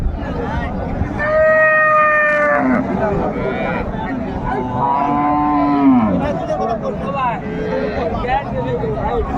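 A cow with her young calf moos loudly and close by at the Raniganj cattle market in Bangladesh, drawn-out calls rising over steady crowd chatter and nearby voices.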